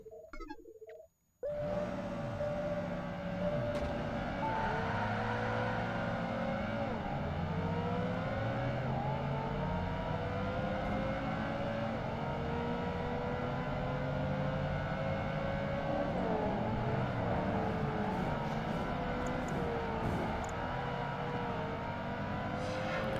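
A Ferrari 360 Spider races in Project Gotham Racing 2: after a brief quiet start, the engine snarls up to a sustained high-revving wail that climbs and dips through gear changes for over twenty seconds, loud and continuous with no talk.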